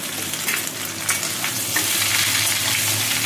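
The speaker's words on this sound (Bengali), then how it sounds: "দেখো ফোড়নটা হয়ে গেছে, এই সবজিগুলো দিয়ে দিচ্ছি" Mixed vegetables hitting hot oil tempered with panch phoron (five-spice with radhuni) for Bengali shukto, giving a steady, close crackling sizzle with stirring scrapes throughout and no talking.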